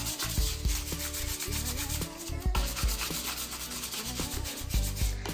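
A brush scrubs the suction part of a Folletto vacuum cleaner, a close, fast rhythmic rubbing and scraping of bristles that keeps going without pause.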